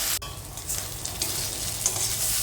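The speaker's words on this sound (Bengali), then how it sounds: "এবার দিয়েছি আদা রসুন বাটা, দিয়ে এটাকে আরও কিছুক্ষণ কষিয়ে নিচ্ছি" Ginger-garlic paste sautéing with browned onions in a pan, giving a steady close sizzle with soft stirring scrapes and a brief clink near the start.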